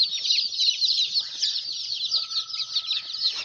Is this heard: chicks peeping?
yes